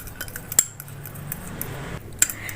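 A spoon clinks against a bowl while tikka sauce is mixed with squeezed lemon and tikka masala spice, two sharp metallic taps standing out over a quiet scraping bed.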